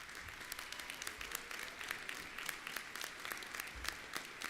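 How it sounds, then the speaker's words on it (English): Faint, distant audience applause at a community college commencement ceremony, a steady patter of many hands heard from far off in a large space. "Let's thank her together with a round of applause."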